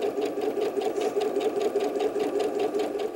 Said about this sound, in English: And continue sewing all the way through.